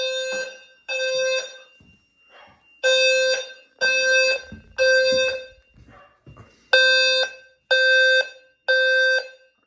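A home fire alarm sounder on the second floor going off during a system test, sounding loud repeated bursts of shrill electronic tone, with short gaps and quieter interruptions between them.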